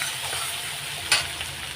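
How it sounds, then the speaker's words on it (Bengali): Potatoes frying in a pan, a steady soft sizzle with a brief louder crackle near the end, no talk. "আলুটা আগে লাল লাল করে ভেজে নেব"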